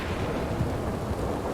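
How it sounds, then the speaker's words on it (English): Low rumbling thunder in a Red Dead RP game scene, a deep continuous roll with a grainy wash of storm noise, fairly quiet and without speech. "Thunder."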